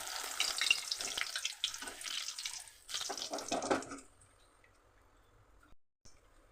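Flattened rice (chire) frying in hot oil, a loud bubbling crackle for about four seconds that then drops away to near silence with faint residual sizzle.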